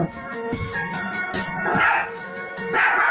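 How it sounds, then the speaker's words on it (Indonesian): A dog barks several times at irregular intervals over a noisy, tonal background, the barks fairly close and moderately loud. "the dog's barking at the wall"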